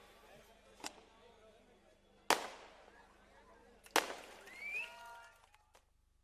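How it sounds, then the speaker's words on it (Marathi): Three sharp firecracker bangs burst at irregular intervals at a public political rally, the last two loud and close, with faint voices in the background. "फटाके वाजवणं बंद करा"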